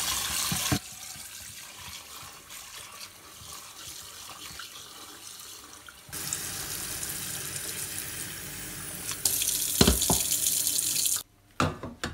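Tap water runs steadily in a strong, hissing stream that shifts in force partway through, then cuts off abruptly near the end.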